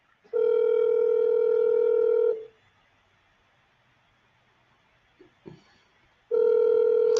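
A telephone call rings out as two long steady electronic ring tones with a quiet pause between them, clear and close, with a faint click in the gap.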